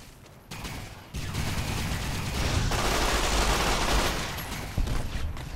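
Sustained gunfire from Fallout: New Vegas, a dense, continuous barrage of rapid shots, loud and close, with a few heavier bursts near the end.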